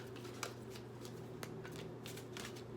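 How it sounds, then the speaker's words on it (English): Tarot cards shuffled by hand during a reading, a quiet, steady papery riffling with soft intermittent flicks and taps, close and faint with no talking. "I want to shuffle a little bit more"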